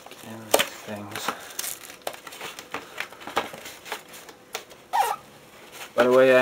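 Plastic-wrapped DVD packaging crinkles and crackles in uneven bursts up close while someone unboxes it by hand without scissors, with intermittent talking over the rustling.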